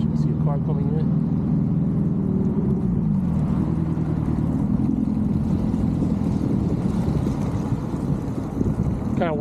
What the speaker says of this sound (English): Kind of weird to see a car coming in right now.